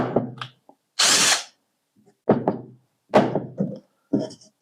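A cordless drill whirs in four short bursts separated by pauses, with a hollow knock at the start of some bursts; close and loud.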